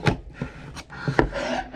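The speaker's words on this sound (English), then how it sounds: "you should be able to just pry with the screwdriver here" A screwdriver pries a retaining pin out of a door lock on a Ford F-250, giving several short scraping and clicking metal-on-metal sounds spread across a brief stretch, each one close and fairly quiet.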